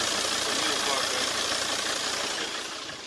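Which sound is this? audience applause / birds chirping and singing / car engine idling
car engine idling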